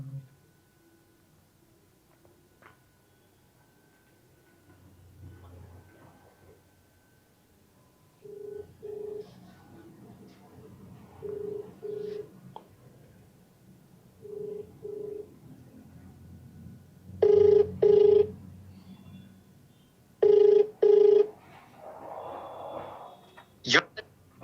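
A phone call rings out in short repeated tone pairs, with dialing beeps earlier and quiet talk between, heard close and faint.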